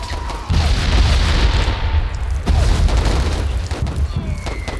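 A grenade goes off in a war video game, a loud booming blast followed by a dense rumbling roar that stays heavy for several seconds, with no voices.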